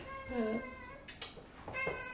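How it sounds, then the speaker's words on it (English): A cat meows twice in a drawn-out, pitched call, close to the mic, with a soft room background and a brief rustle between the cries. "This is Leonard the cat."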